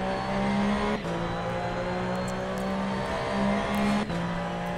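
A 2017 Porsche 911 GT3 Cup engine in the racing game Assetto Corsa, a loud steady high-revving whine holding pitch with brief dips at gear shifts, close and continuous, no voices.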